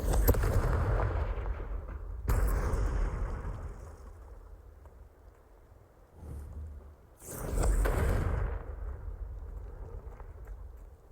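Blasting-spell explosions in a fantasy video game, a few heavy booming blasts with long rumbling decays over low background noise, the loudest near the start and another later.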